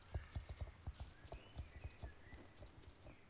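Hooves of a Welsh pony walking in the game Star Stable Online, a clear steady clip-clop of about a dozen close footfalls in an even rhythm that softens toward the end.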